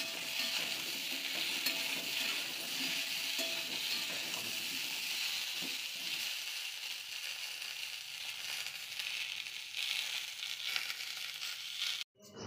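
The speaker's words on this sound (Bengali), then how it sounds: "বেগুন আলু একসাথে ভালো করে ভেজে নিতে হবে।" Cut eggplant and potato fry together in hot oil in a pan, giving a steady bright sizzle close up with occasional stirring scrapes, ending abruptly.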